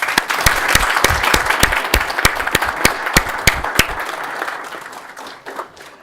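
An audience at a city council committee meeting claps in a dense, loud round of applause that fades out over about six seconds, with sharp individual claps near the end.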